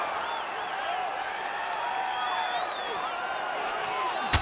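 An arena crowd at a UFC fight keeps up a continuous roar of cheering and whistles after heavy ground strikes, loud and sustained, with a brief thump near the end.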